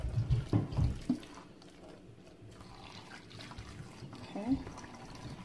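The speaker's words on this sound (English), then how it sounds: "We'll spill this into the sink." Liquid from a Nigerian chicken stew preparation is poured out into a kitchen sink, a soft splashing trickle running under a person's talking.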